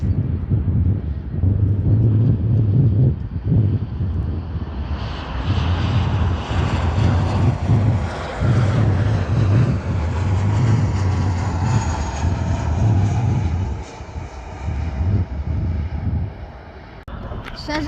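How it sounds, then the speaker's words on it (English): A Cessna 208B Grand Caravan EX turboprop of Southern Airways Express passes by, its engine drone swelling into a loud, broad roar then fading, with wind buffeting and people talking nearby. "Cessna 208B Grand Caravan EX. From Southern Airways Express, Flight 364"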